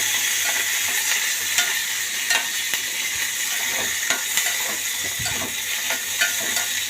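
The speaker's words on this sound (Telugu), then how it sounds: "ముందుగా పచ్చిమిరపకాయలు వేసి దూరగా వేయించుకోవాలి" Green chillies fry in a pan for a chutney, a loud, steady sizzle with occasional stirring scrapes and light clinks of a utensil against the metal, close up and with no voices.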